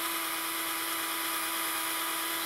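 A drill fitted with a 3M headlight restoration kit sanding pad works on a car headlight, giving a constant, even high-pitched whir throughout with no pauses.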